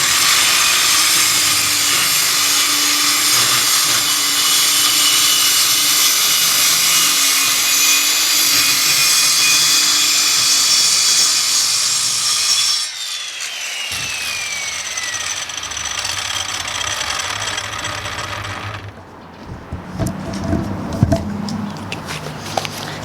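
A power saw cuts through wood laid across sawhorses during fire damage repair at a laundromat, a loud continuous high whine for about thirteen seconds, then a lower ongoing buzz, stopping near the end with a few clattering knocks.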